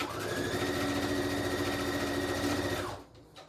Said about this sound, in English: we're gonna just sew down each side, and then that pocket is all done